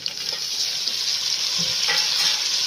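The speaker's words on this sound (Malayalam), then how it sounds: "ഇതൊന്ന് ഇച്ചിരി നേരം ഇളക്കിയതിന് ശേഷം വേണം തക്കാളി ഇടാൻ" Onions and curry leaves sauté in a pan for chicken mappas, a steady close sizzle with occasional soft stirring scrapes.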